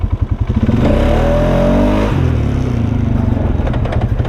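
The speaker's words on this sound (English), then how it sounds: "there we got some chatter going sideways" Close, loud engine of a Polaris Sportsman 570 EFI ATV with a new clutch kit, pulsing at low revs then climbing in pitch and settling into a rough, shuddering chatter.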